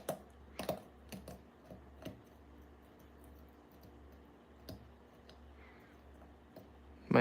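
A hand tool cuts into soft rock to free bixbyite and topaz, giving sparse, sharp clicks and scrapes at irregular intervals, close up against a quiet background, with a louder knock at the very end.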